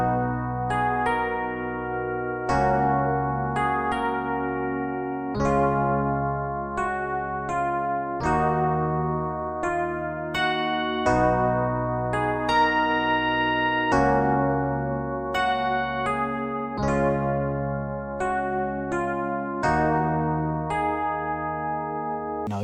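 Two layered Rhodes electric piano sounds, some pitched down, play a slow, warm chord progression, each chord ringing out and decaying before the next, with no voices.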